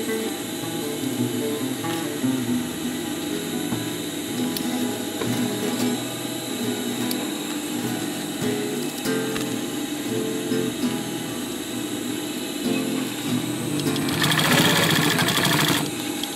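Close and loud, a sewing machine stitches a chest pouch in one long, steady run of whirring motor and rapid needle clatter, turning busier and brighter toward the end.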